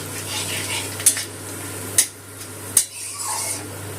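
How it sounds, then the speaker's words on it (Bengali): Whole spices, bay leaf and dried chilli frying in oil give a soft, steady sizzle over a low hum, broken by three sharp utensil clacks against the pan. "ফোড়নটা একটু তেলে ভেজে নেব।"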